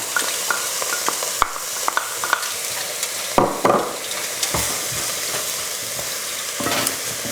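Pancetta sizzles steadily in a pan for a slow-cooked beef tomato sauce, with repeated scraping stirs and a few sharp utensil knocks against the pan rising above the constant frying hiss.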